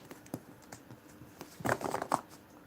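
A deck of tarot cards being shuffled by hand, soft scattered taps and flicks followed by a denser burst of riffling near the end, close and quiet.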